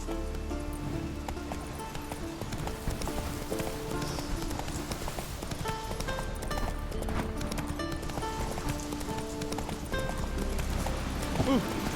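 Roach, a horse in The Witcher 3, gallops with a steady clip-clop of hooves under dense game music and ambience, with voices speaking over it and a brief whinny now and then.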